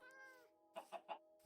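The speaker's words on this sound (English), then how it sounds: "that's a cat." A cat in a video game meows once with a drawn-out tone, then gives three short chirping meows in quick succession, close and fairly quiet.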